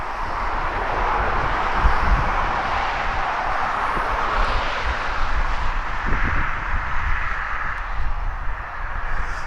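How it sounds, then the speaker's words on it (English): Cargo Boeing 747 landing at East Midlands Airport, a loud, steady broadband jet roar with a deep rumble that holds throughout without fading. "A cargo 747, nice landing again."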